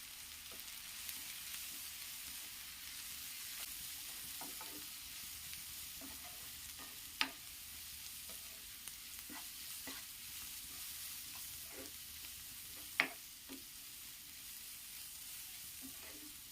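Shallots sautéed with Kashmiri chili powder and turmeric in a pan, a faint, soft sizzle broken by scattered scrapes and clicks from stirring, including two sharper knocks, quiet and close with no talking.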